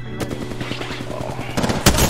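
Rapid automatic gunfire in Apex Legends rattles close and loud in a steady burst, ending with a heavier blast near the end.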